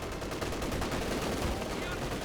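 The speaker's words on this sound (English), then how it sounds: "Nice bit of shooting there from the Kubelwagen" Bursts of Kubelwagen gunfire ring out in a Company of Heroes 2 battle in an urban map, dense crackling rifle and machine-gun fire mixed with game noise at moderate level.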